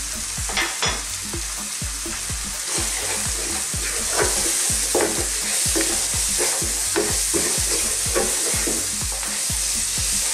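Butter chicken masala frying over medium-high heat in a pan, with a steady loud sizzle and regular rhythmic scrapes of a spoon stirring the mixture, close up and without talk.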